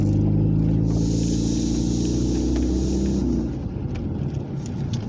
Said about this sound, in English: because I'm driving now